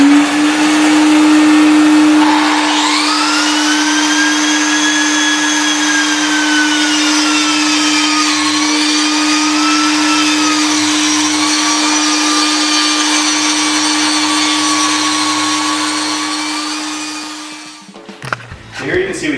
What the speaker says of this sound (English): I'm going to cut along the bottom and the top of the mortar joint and just take the whole mortar joint out